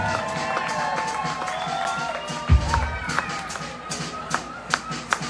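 A concert audience at a live Boston band performance claps and cheers in a sustained wash of applause, with scattered sharper claps and a loud thump mid-clip, a voice speaking faintly underneath.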